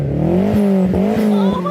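A roadster's engine revs hard while its exhaust lets out a quick series of sharp pops and bangs, loud and close, with the engine note rising and falling between the cracks.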